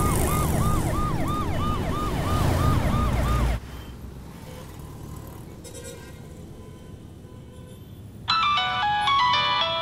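An ambulance siren wails in a rapid rising-and-falling pattern, loud and close, over road and engine noise. It cuts off abruptly, and a ringing phone tone starts later.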